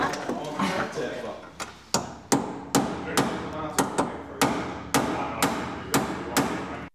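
A chisel hammers apart an old car part during a repair, sharp repeated metallic blows about twice a second, loud and close, with a voice in the background.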